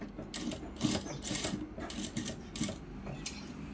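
A sewing machine stitches cloth in quick bursts of rapid mechanical clatter separated by short pauses, close and moderately loud with no speech.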